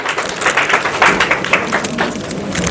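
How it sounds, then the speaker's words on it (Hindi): An audience claps at a public discussion event in Hazaribagh. The applause is dense, steady and loud from start to finish. "जरा एक बार जोरदार तालियां जी।"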